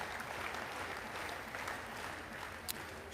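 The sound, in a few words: crowd cheering and applauding a bike trials rider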